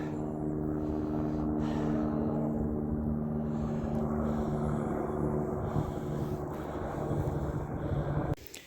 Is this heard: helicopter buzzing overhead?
yes